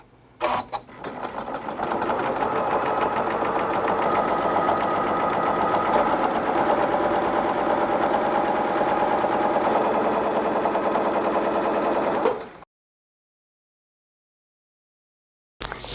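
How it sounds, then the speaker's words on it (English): A sewing machine stitches along a drawn line on a table runner, running in one steady, fast whir for about eleven seconds before stopping, with a brief click after a pause. "I'm going to stitch on the line."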